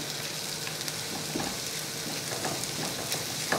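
Onions with ginger-garlic paste fry in a hot pan for a Lahori aloo paratha filling, a soft steady sizzle with faint crackles and occasional stirring scrapes, heard alone.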